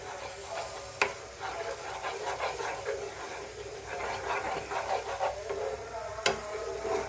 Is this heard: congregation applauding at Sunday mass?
no